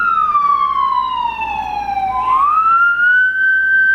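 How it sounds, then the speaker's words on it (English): A loud emergency siren wails on a New York City street, its pitch sliding slowly downward then sweeping back up in a continuous close, piercing tone. "the siren is so loud"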